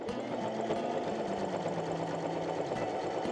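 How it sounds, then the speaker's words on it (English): A sewing machine running steadily while stitching a denim strap cut from old jeans, a close, even whirring hum with a fast rhythmic motor chatter throughout and brief changes in pitch. "we're just going to sew 2 straight stitches, one on the side closing this together"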